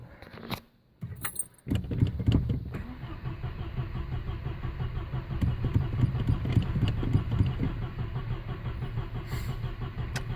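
Carbureted 1983 Volvo 240 engine cranking on the choke after a jingle of keys, then catching and settling into a fast, steady idle that continues to the end, close and loud with no talk.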